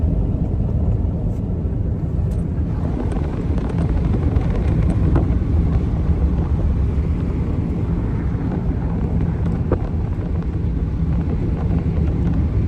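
Thunderstorm outflow wind roars steadily across the microphone in Colorado, a dense, continuous low rumble and buffeting with no pauses.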